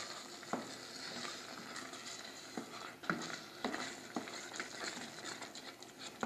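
Sugar-free banana jam cooking down in a pan, a soft bubbling sizzle under steady stirring, with occasional scrapes and knocks of the spoon against the pan, quiet and close, no speech.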